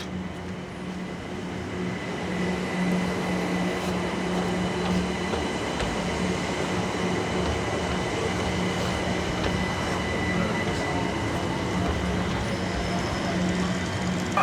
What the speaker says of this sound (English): So as you can see, the train's coming.